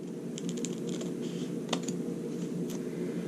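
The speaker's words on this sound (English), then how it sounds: "Then I'm going to cut along the shoulder." Scissors cut a paper bodice dart template along the shoulder line, making quiet, irregular snips and crisp paper clicks over a steady room hum, with no talking.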